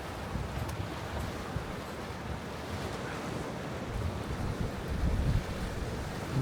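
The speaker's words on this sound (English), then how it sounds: "I'm going to sit down and just watch some of these waves roll in" Ocean waves rolling in steadily along the Dallas Road waterfront in Victoria, a continuous wash of surf mixed with wind buffeting the microphone, swelling slightly louder near the end.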